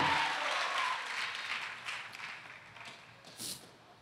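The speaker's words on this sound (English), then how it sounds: "Three claps and an amen" A church congregation applauds during a sermon, a fairly faint and distant patter of clapping that thins out over a few seconds, with one brief sharper burst near the end.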